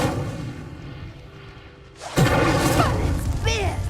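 The Incendio fire spell in Hogwarts Legacy goes off with a sudden loud whooshing burst of flame that swells and roars on, following quieter game ambience.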